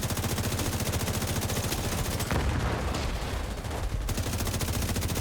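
Rapid automatic gunfire from a video game, a steady stream of close, loud shots with a brief lull midway before firing resumes.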